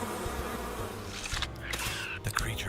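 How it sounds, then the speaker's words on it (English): Thrown bees buzz in the Infinite Mansion video game, a faint busy drone with brief sharp sound effects breaking over it partway through. "And I'm going to throw some bees."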